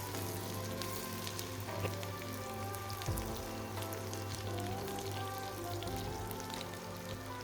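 Onion, green chili and chopped garlic fry in hot oil with a steady, even sizzle and crackle, with no talking over it.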